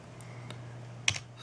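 Keys tapped on a computer keyboard while entering a Windows command, a few sparse, quiet clicks with one sharper keystroke near the end over a faint hum.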